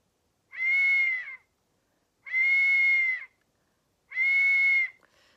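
A human voice imitates a cat, giving three drawn-out meows evenly spaced with silence between, close and clear.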